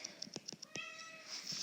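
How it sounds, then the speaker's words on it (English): Domestic cat meowing nearby, several short soft mews followed by a longer drawn-out meow, quiet and alone without speech. "My cat is mewing"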